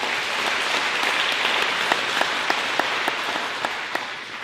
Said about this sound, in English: please give them a nice round of applause for being here tonight